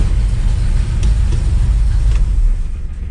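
A 1961 Pontiac Laurentian with a four-speed manual on the move, a steady loud low engine and road rumble filling the cabin without a break and easing slightly at the end.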